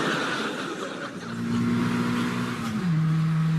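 A car engine revs and accelerates nearby, a loud steady drone that rises and then settles to a lower pitch, heard alone without speech.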